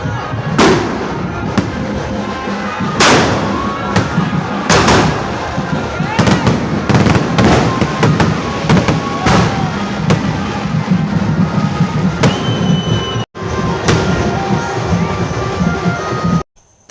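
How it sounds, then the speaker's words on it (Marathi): A fireworks show at a Ganesh procession in Ulhasnagar bursts with rapid loud cracks and booms layered over a constant crowd roar, some blasts very close and sharp, with a brief cut near the end. "तिथं होता फटाक्याचा शो मग ती बघायला एवढी पब्लिक उभी राहिलेली मोबाईल घेऊन काही सांगूच नाही शकत तुम्हीच बघा आता फटाक्याचा शो"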